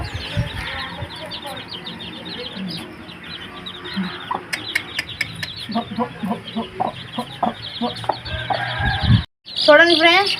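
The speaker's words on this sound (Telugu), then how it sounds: "చూడండి, మా కోడి పెట్ట 9 పిల్లలను పెట్టింది" A hen clucks in low, repeated calls while her nine chicks peep in quick, high, overlapping chirps nearby. A voice speaks at times over the farmyard sounds.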